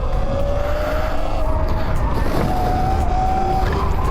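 A Sur-Ron electric dirt bike is ridden through a wheelie, its faint whining motor tone rising and falling beneath loud, constant wind roar at close range.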